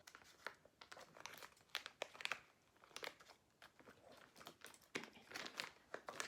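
Bellabox beauty subscription box packaging being opened, with steady close crinkling and crumpling of paper and plastic, broken by sharper tearing bursts, over about six seconds and with no talk.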